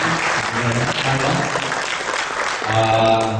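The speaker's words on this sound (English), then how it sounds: "Can we give a round of applause for Arnold?" An audience claps steadily in a dense burst of applause, loud and sustained, with a voice speaking briefly over the clapping.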